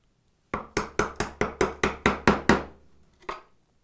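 A chisel struck into wood while cutting a bridle joint, ten sharp, evenly spaced mallet blows in quick rhythm, then a pause and one last lighter strike, loud and close with no talk.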